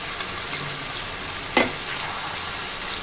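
Meat sautéing with garlic-ginger paste and green chilli gives a constant close sizzle, with one sharp scrape of a stirring spoon partway through.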